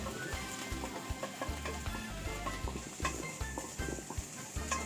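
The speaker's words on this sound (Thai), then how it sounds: "จากนั้นเราก็ทำการผัดกับพริกกับกระเทียมเลยนะครับ" Pounded chili and garlic are stir-fried in a pan over medium heat, giving a steady sizzle broken up by rhythmic scraping and knocking of the spatula against the pan, close by.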